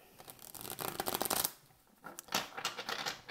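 Tarot cards being shuffled for a reading, two quick riffling bursts separated by a short pause, close and fairly quiet, no talking.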